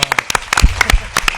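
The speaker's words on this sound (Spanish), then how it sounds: "Un fuerte aplauso para Benoît Ferremont." Brief burst of audience applause for a comics artist and animator at a Spanish film market event, scattered loud claps from a crowd over about a second.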